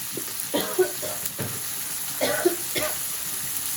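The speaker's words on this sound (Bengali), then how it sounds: "এখন একটু মশলাটা কষে নেব হলুদ মরিচ লবণ তেল দিয়ে যাচ্ছে" Spices with turmeric, chili and salt frying in oil, a close steady sizzle with occasional stirring scrapes and clinks, faint and continuous throughout.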